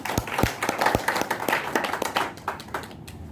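A group at a live LIC insurance seminar in Patna claps in uneven, overlapping bursts, a sparse round of applause from a small audience that thins out toward the end.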